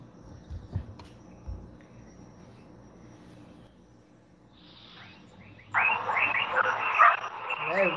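Frogs croaking outdoors in a loud, rapid chorus that rises in the second half, preceded by faint scattered noises and quiet background.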